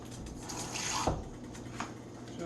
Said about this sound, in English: Add a little bit more water to that.